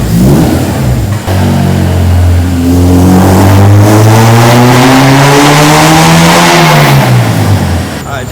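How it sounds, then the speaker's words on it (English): A Honda Integra's K20Z3 engine revs on a dyno with VTEC engaged, very loud and close, its pitch sweeping steadily upward over several seconds to a high scream, then dropping off. "Second pull with the VTEC working."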